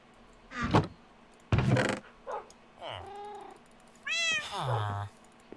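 Cats in the video game Minecraft let out several separate meows, some short and some drawn out, with gaps between them, fairly close and clear against a quiet background.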